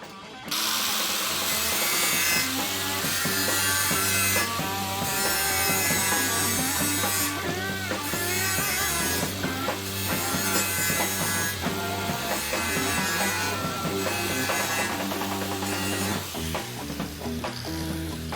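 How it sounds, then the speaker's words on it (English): A flat disc grinding down the remains of a trim stud on a 1973-79 Ford dent side truck, a loud continuous abrasive rasp with pulsing surges and variations in pressure, no voices. "So now I can use a flat disc to get the rest of that stud."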